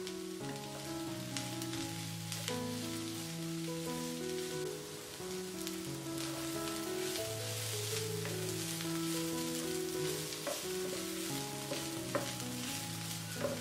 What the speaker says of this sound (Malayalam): ഉപ്പ് പൊടി ചേർത്ത് വീണ്ടും നല്ലപോലെ വഴറ്റി കൊടുക്കണം.